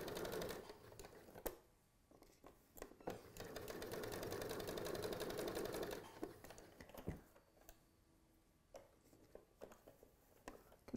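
A sewing machine stitches a dart in short bursts, its rapid needle chatter running for a few seconds at a time between pauses and faint handling clicks, close and fairly quiet.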